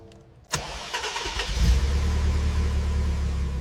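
A BMW M3 E30 engine cranks over with a sharp burst and catches, then settles into a loud, steady idle with a deep rumbling low end.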